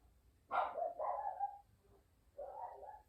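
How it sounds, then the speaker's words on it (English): A dog gives two muffled barks in a quiet room, a short double bark followed by another after a pause. "Sorry about my dog."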